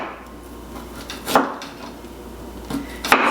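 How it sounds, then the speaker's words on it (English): Unpeeled ginger root being cut into thin slices on a board: a few separate knife chops and taps, irregularly spaced, standing out against quiet room tone with no talking. "I'm just going to take my ginger and I'm going to make thin slices"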